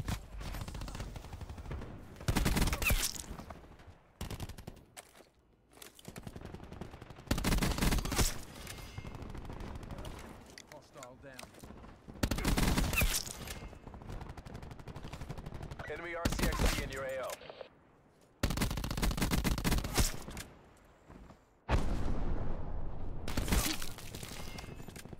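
Gunfire from shooting bots in Call of Duty Black Ops 4 on the Alcatraz map, heard as repeated loud bursts of automatic fire separated by quieter gaps, with occasional talk underneath.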